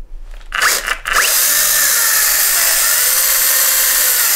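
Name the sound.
chainsaw cutting open cardboard box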